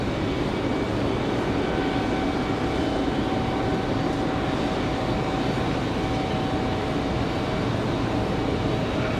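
Loud, steady roar of a jet airliner departing at Raleigh Durham International Airport on a windy day, a broad continuous rumble with a faint whining tone, heard alone without talk.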